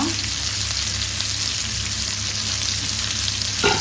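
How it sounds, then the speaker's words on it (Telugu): Marinated fish frying in a pan, a dense continuous sizzle that stays loud and even from start to finish. "చూడండి మన ఫిష్ ఫ్రై అయితే రెడీ అయిపోతుంది"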